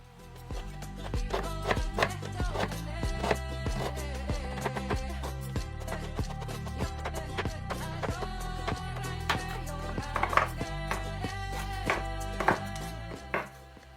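Knife chopping through dry cacao beans on a board, a steady run of sharp, close cuts and taps with no talking, set over a constant low background of what sounds like music or room tone.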